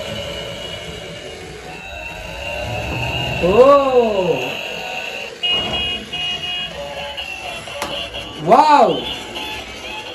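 A Spider-Man themed toy car is switched on, giving out electronic siren-like tones that rise and fall in two bursts over a steady high whine, with people talking throughout.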